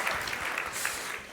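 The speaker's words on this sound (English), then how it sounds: "Big round of applause for Ravish Hanuman," An audience at a late-night public speaking show claps for a speaker, a continuous, moderately loud wash of applause with no voices.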